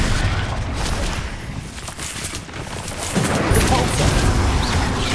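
Rapid spell blasts and booming impacts in the Hogwarts Legacy video game, dense overlapping bursts and explosions at a loud steady level, with a voice shouting spell names over them.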